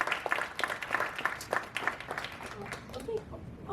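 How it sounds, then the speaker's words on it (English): A small audience at a Detroit community education discussion gives a round of applause for student panelists, scattered clapping running steadily with voices and chatter mixed in throughout. "give them a little love with a round of applause"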